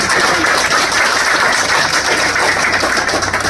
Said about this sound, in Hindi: उन सभी शेर वालों के लिए जोरदार तालियां आप लोगों से चाहता हूँ।